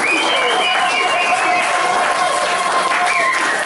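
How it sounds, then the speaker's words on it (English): Steady audience applause and some cheering at a tribute concert in a music venue, dense continuous clapping with faint crowd voices and whistles mixed in. "So let's give her a round of applause, please."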